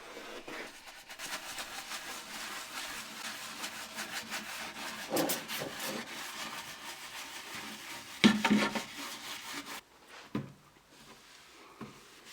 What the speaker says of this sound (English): So I'm just going to use my Dishmatic with a bit of washing up liquid.